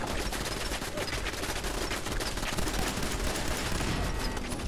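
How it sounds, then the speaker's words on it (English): Turret gunfire crossing in Fallout 4, a dense, unbroken rattle of rapid automatic shots packed together at steady volume, with no voices. "Got turrets with a crossfire going on."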